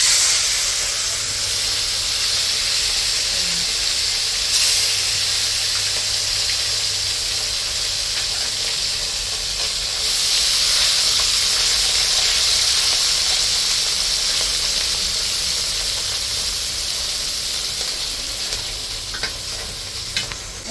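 Large fish frying in hot oil, a loud, steady hiss and crackle of sizzling close by that holds for the whole stretch, with a few brief spitting bursts and no talking.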